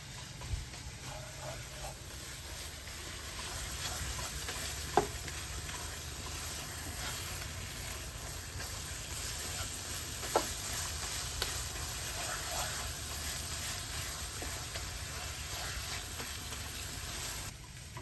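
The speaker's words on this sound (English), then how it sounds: "I'm going to mix it for another 2 more minutes." A duck curry mixture with coconut milk frying in a pan and being stirred, giving a steady low sizzle and hiss with occasional soft scrapes and knocks of the utensil throughout.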